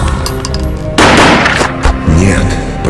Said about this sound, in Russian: Прогремел выстрел